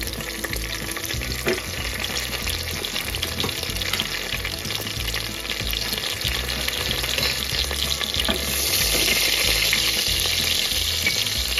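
Panch phoron spices crackle and sizzle in hot oil in a home kitchen, a dense, continuous frying hiss with light stirring. The sizzle swells louder toward the end, and there is no talk.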